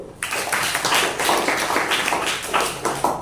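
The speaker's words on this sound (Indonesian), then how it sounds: "kasih tepuk tangan dulu" Classroom audience applauding during a teacher's lesson on persuasive text, a dense burst of many hands clapping that starts abruptly and carries on steadily, fairly close, with no speech over it.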